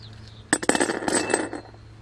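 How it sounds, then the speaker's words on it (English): Loose keyboard switches tumble into a jar, giving a quick flurry of bright plastic clicks and rattles that starts sharply, thins out and settles after about a second. "We'll just put the remainder sad switches into a jar of their own."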